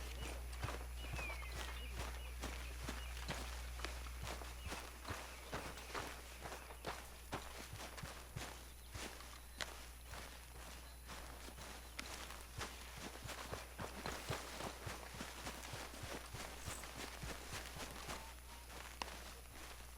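Horse hooves plod steadily in Red Dead Redemption 2, a continuous clip-clop walking rhythm over a low ambient hum, moderately close and unbroken for the whole stretch.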